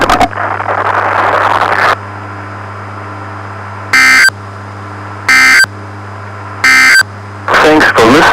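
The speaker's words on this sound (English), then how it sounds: "This concludes the test of the NOAA Weather Radio Warning Alarm System." Harsh buzzing alert bursts from a NOAA Weather Radio warning test relayed over a 2-meter ham radio repeater, sounding in repeated loud pulses separated by steady carrier hum, with a voice heard at the start.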